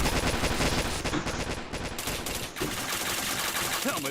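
Rapid, continuous automatic gunfire in a battle-royale shooter game, loud and dense throughout with brief dips, a voice faintly underneath.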